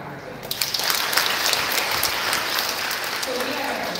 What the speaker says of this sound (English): So give them a clap again